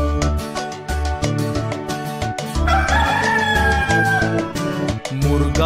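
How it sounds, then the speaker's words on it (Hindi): A cartoon rooster crows in an animated Hindi children's rhyme, a drawn-out crow rising over bright, rhythmic backing music that plays loudly throughout. "मुर्गा बांग लगाता है, सबको सुबह जगाता है।"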